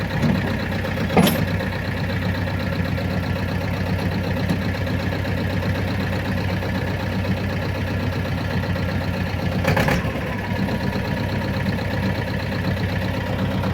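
A T-25 tractor with a newly welded rotary tiller runs steadily through a field test, its engine drone constant and close with a dense low rumble and a couple of brief sharp clatters.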